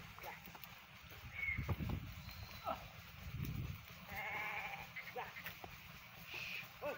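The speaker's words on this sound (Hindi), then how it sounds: "आज भेड़ पालक भी अपनी भेड़ चराने आए" Sheep bleating in a flock grazing beside a river near farm fields, several short calls at mid distance over a steady outdoor background, with low rumbling and people talking faintly at times.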